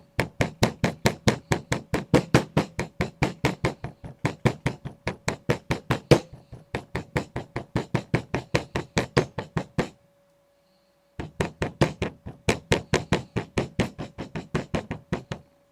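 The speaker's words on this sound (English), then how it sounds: "Hammer it again." Fast, regular hammering on metal, many sharp ringing strikes close by, broken by a pause of about a second before the pounding resumes.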